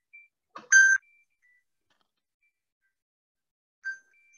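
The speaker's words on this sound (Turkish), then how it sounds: "pardon, devamlı telefon çalıyor." Telephone ringing during an interview: a short electronic ring burst near the start, a faint chirp later, with silence around and no speech.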